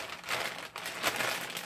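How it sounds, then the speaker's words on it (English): Plastic bag crinkling as cold porcelain clay is packed away with a wet wipe and the air pushed out, a steady close rustle and crackle with a brief pause midway. "Put it back inside the plastic bag."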